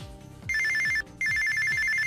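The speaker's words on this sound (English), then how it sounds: "Oh my god, pick up the phone!" Telephone bell ringing in an anime episode, two loud electronic ring bursts separated by a brief pause, over a steady pulsing background beat.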